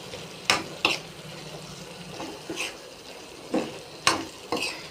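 Chili powder is stirred into a ridge gourd and moong dal curry with a quiet bubbling simmer underneath and a handful of sharp spoon scrapes and clinks against the pot, spaced irregularly.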